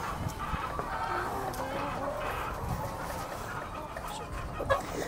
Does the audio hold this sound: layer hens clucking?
yes